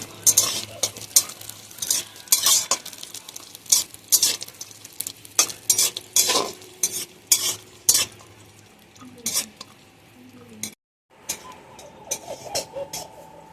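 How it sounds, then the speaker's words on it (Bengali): Cashews and raisins fried gently in hot ghee while a spoon stirs and scrapes the pan in repeated bursts, the soft sizzle sitting underneath the clatter and broken by a brief pause near the end. "ঘিটা আমার গরম হয়ে গেছে, এটা আমি কাজু বাদাম আর কিশমিশ অল্প, এটাকে হালকা আঁচে ফ্রাই করে নেব।"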